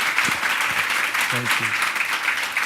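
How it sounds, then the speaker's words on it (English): Audience applause, a dense patter of clapping throughout, with a voice speaking briefly over it. "Round of applause for this guy right here."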